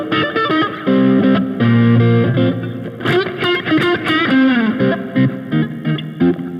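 Distorted electric guitar plays the bridge chord progression of a worship song, with sustained, effects-laden chords and shifting voicings that fade in and out, played alone without talk.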